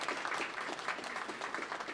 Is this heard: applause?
yes